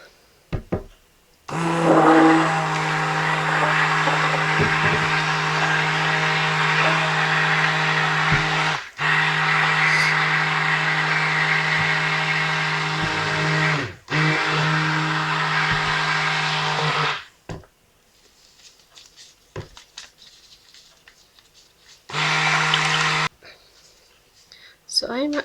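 An electric blender whizzes a shea butter and goat milk soap mixture in loud, steady bursts, running for long stretches with brief pauses and a final short burst, with a few clicks and handling noises between runs.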